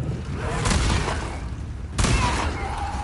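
Two heavy shotgun blasts ring out a little over a second apart in The Last of Us Part II, each a loud booming crack with a short rumbling tail, amid dark game ambience.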